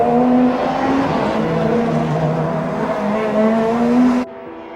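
A Mercedes C-Class touring race car limps toward the pits on a damaged tyre, its engine loud and close with a wavering tone that cuts off sharply near the end.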